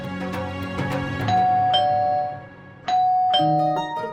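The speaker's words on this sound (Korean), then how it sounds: "우리는 그들의 종을 눌러야 합니다" A doorbell chimes with a two-tone ding-dong, rung twice in a row, each pair of tones ringing out clearly and fading, with no talk over it.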